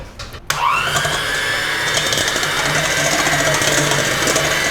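An electric hand mixer beating egg whites switches on and runs with a continuous whirring buzz, its pitch shifting slightly as it works, close up and without speech.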